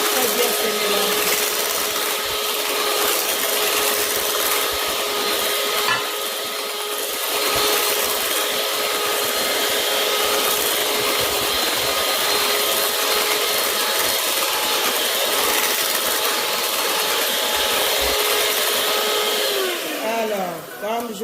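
An electric mixer whips tiramisu cream with a loud, unbroken motorized whir and a steady hum, then winds down and stops near the end, with no talking.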